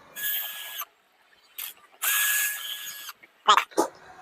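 Nuts are being unscrewed from a home theater transformer, heard as short, close, ratcheting mechanical bursts separated by silences, ending with a few sharp clicks.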